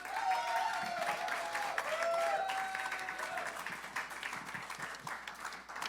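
An audience applauds at a live earthquake relief concert, a dense, steady wash of clapping from a crowd heard at a distance, with a few faint tonal sounds mixed in and tapering toward the end.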